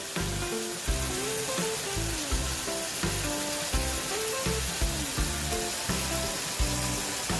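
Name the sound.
jerk-seasoned pork chunks frying in a pan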